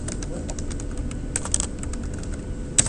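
Someone types on a computer keyboard while entering a spreadsheet cell label, tapping out quick bursts of clicks close to the microphone with a couple of louder keystrokes.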